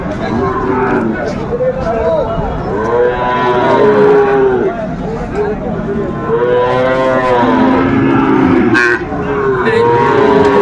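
Cattle, including a Sahiwal bull, moo repeatedly and loudly at a livestock market in Chattogram, Bangladesh, the drawn-out calls overlapping amid background crowd murmur and voices.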